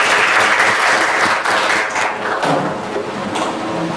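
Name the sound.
audience applause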